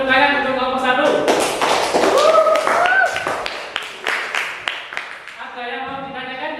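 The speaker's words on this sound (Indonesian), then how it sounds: "kita beri tepuk tangan untuk kelompok 1." Classroom audience in an Islamic religious education session on congregational prayer claps for the first group, scattered hand claps and taps mixed with voices and talk, fairly close.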